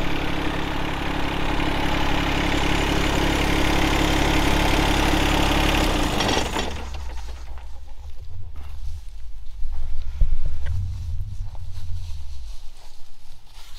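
A John Deere 1025R compact tractor engine, injector pump fuel adjusted, runs under hydraulic relief load as a loud, steady, close drone for about six seconds, then cuts away to a much quieter background with faint rumbling.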